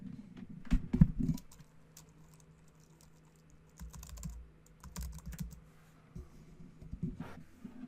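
Quiet, irregular tapping of keys on a computer keyboard, with short bursts and pauses and a few louder clicks near the start.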